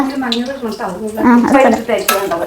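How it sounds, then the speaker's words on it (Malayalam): Precooked vegetables go into a pan for rava semiya kichadi with brief utensil clatter and stirring, close by, while someone talks over it. "നമുക്ക് ഇതിലേക്ക് വെജിറ്റബിൾസ് ഇട്ട് കൊടുക്കാം കേട്ടോ"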